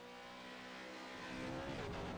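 A race car sweeping through the Porsche curves at Le Mans, a steady engine tone that swells louder and higher toward the end as it nears, with no talk.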